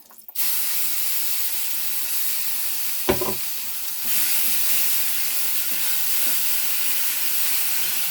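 Ground spice paste dropped into hot butter with kasuri methi, giving a loud, steady sizzle and steamy hiss that flares up as the paste hits the pan, heard up close with no talking.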